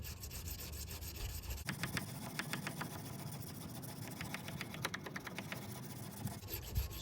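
Steady abrasive rubbing of a Mora Companion stainless knife's Scandi grind being ground down against a sharpening surface, continuous close rasping strokes with a faint rhythmic pulse.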